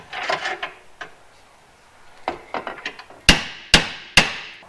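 A hammer strikes a bolt while working it into place in a yard, starting with a few scattered knocks and then landing three loud, sharp metallic blows near the end.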